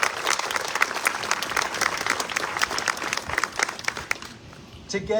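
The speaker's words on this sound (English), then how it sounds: "Please, let's give another round of applause." A crowd at a GR Pride speech event gives a round of applause for the speakers, sustained and lively with scattered sharper claps, before a voice starts up just at the end.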